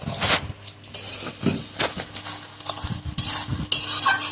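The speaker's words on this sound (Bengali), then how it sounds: "আরও বেশ কিছুক্ষণ এটা কষাতে হবে" Mutton is stirred and scraped in a pan with ground spice paste for khashi mangsho, giving irregular close strokes and scrapes over a low sizzle.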